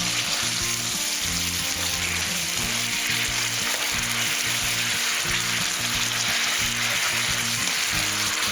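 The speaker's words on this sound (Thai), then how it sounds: "เราก็เติมน้ำจุ๊บลงไปหน่อยท่านผู้ชมครับ" Japanese scallions stir-fry in a hot pan after a splash of water, producing a loud, steady, close sizzle and hiss that runs unbroken, with a low rhythmic hum underneath and no voices.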